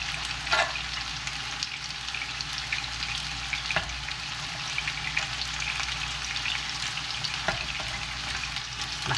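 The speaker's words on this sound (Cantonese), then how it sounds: "我哋反轉佢再煎下，因為加咗香茅啦，再煎多一陣" Lemongrass pork chop for Vietnamese broken rice frying in a pan, a steady close sizzle with light crackle and a few soft clicks throughout, no talking.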